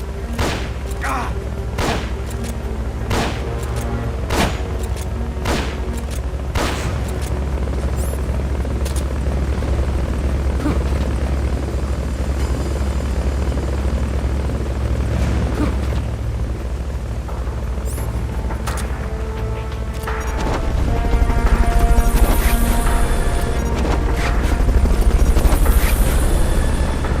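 A helicopter in a stealth video game during a Fulton recovery thrums steadily and loudly throughout, with repeated sharp thumps, bursts of gunfire and brief tones over it.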